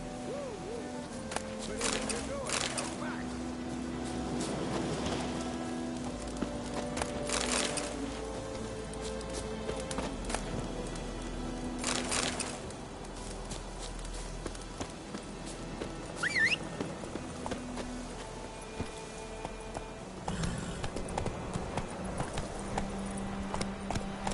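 Roach, a horse in The Witcher III, gallops with a steady rhythmic clip-clop of hooves beneath ongoing character dialogue and ambient game sound.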